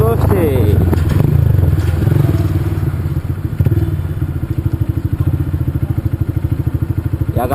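A Honda Titan motorcycle engine runs close by on a town street, a steady low throbbing pulse that turns into a distinct rapid chugging in the later seconds, with speech over the start.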